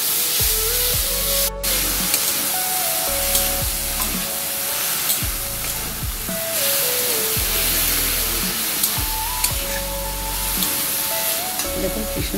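Chicken pieces frying in a pan for chowmein, a loud dense sizzle running throughout with repeated scraping strokes of a spatula and a steady hum underneath.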